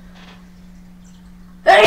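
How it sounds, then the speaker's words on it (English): A single loud, close sneeze bursts out near a microphone at the very end, after a quiet stretch with only a low steady hum. "Oh, pardon me, I'm about to have to sneeze."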